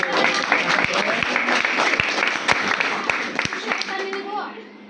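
Classroom children clap for Gundappa in a loose, uneven patter of sharp hand claps lasting several seconds, with voices talking over the applause.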